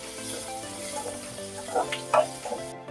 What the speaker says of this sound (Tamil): எல்லாத்தையும் போட்டு 1-2 நிமிஷம் நல்லா வதக்கி எடுத்துக்கலாம்